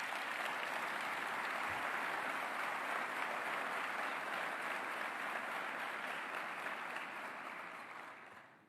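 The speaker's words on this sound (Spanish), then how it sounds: "Vaya si no se merece un aplauso este señor Toto Caputo." Crowd at the ExpoEFI 2025 economic forum applauds Toto Caputo during a Milei speech, a broad steady wash of clapping from a large hall that fades out at the end.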